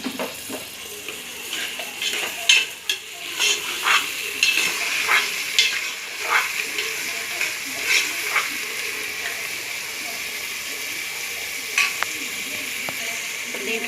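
Onions fry with mint and curry leaves in a pan under a steady bright sizzle, while a spoon scrapes and taps in a loose rhythm close by.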